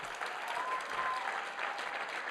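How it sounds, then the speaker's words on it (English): A crowd at a school board of education meeting claps steadily throughout, a dense, even patter of hands at moderate volume, heard from a little distance in a room. "a round of applause for the Protazowitz family."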